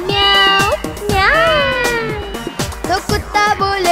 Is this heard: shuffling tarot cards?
no